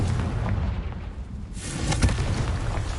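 A Confringo spell bursts in Hogwarts Legacy on PlayStation 5 with a loud, booming explosion and crackling debris, heard alone in rough, noisy rumbling.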